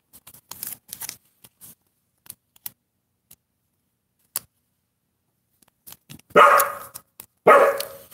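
Playful puppies bark in short, sharp yips scattered through a quiet indoor room, ending in two louder, longer bursts of barking close by.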